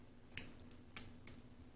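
Scissors snip paper in a planner, three short crisp cuts spaced about half a second apart, close and fairly quiet with no talk.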